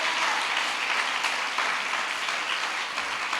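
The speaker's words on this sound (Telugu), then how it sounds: "ప్రభువు గొప్పవాడు అన్నవాళ్ళు చప్పట్లు కొట్టి ప్రభువుని మహింపరచండి" A church audience applauds during a prophetic ministry meeting, with dense, steady clapping that holds at an even level throughout, sounding like a sizable crowd at moderate distance.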